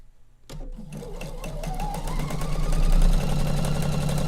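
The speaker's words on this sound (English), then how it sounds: "Sew to the edge, needle down, foot's up." A sewing machine stitches quilt pieces, starting abruptly and running in a fast, even mechanical whir with rapid needle clatter that speeds up and grows louder, close by with no talking.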